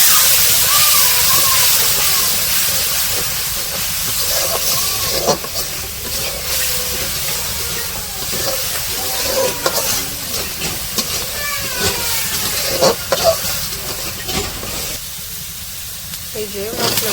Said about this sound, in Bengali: পানি দিয়ে দিলে এখন মশলাগুলো একটু ভালো করে কষিয়ে নেব।